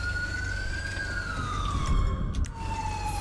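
A video-game police siren in Grand Theft Auto V wails steadily, its pitch slowly rising and falling, over a constant low engine rumble in a snowstorm.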